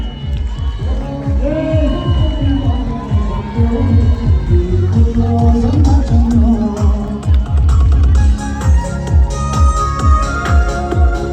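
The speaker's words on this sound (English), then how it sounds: "Let's clap for him, ladies and gentlemen." A crowd claps and cheers for a runner at a marathon in Tawang, with rhythmic hand claps and loud shouting voices layered over one another throughout, close and lively.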